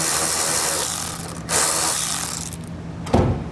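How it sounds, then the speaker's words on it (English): 7mm bolt on a 2020 Chevrolet being worked with a socket wrench during a wiring kit installation, a close ratcheting and mechanical clatter over steady background noise, with a couple of sharper clicks and no talk. "Grab a 7mm socket."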